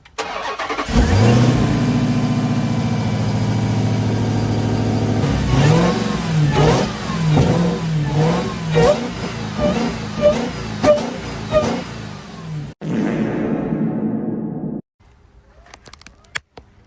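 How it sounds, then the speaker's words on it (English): A car engine in a Hellcat engine swap with an aftermarket intake starts and revs repeatedly in sharp bursts, loud and close, then drops back to idle and cuts off. "I'm gonna set y'all up and give y'all some revs of the old intake."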